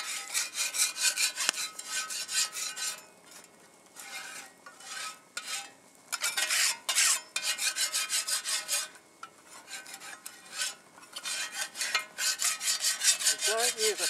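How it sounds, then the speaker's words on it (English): Metal paint scraper rasping across a hot plate over a camp fire barbecue, in repeated close, harsh scraping strokes with short pauses between them. "Okay, paint scraper."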